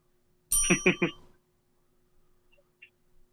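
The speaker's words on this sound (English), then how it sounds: "That deserves a bell, wouldn't you say, Peyton?" A bright bell ding rings out three quick times in a row on a podcast, then fades into near silence with a few faint small sounds after.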